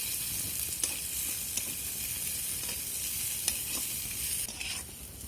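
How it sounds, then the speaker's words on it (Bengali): Chopped onion and garlic fry in a pan for a kalmi greens dish, stirred with light scrapes over a loud, even sizzle that softens slightly near the end, heard up close without talk. "এটাকেও নাড়াচাড়া করে ভেজে নেব।"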